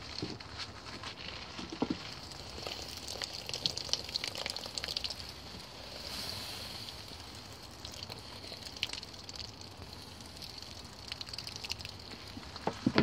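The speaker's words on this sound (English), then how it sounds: "I'm going to pour a bit of water at a time on it" Quiet crackling and fizzing patter with scattered soft pops and hiss, steady and close, like water sizzling on hot embers.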